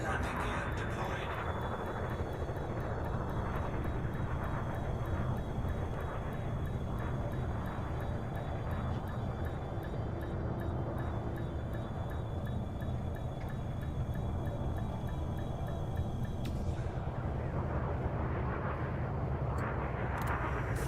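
A spaceship in Elite Dangerous comes in to land with its landing gear lowered, giving a steady, loud, low engine roar and rumble that fills the whole stretch, with a voice speaking over it.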